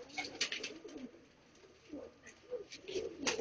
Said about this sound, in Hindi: ये मेरा शाहजहानी कबूतर है ये वाला